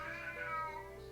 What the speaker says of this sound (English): And my cat's making noise.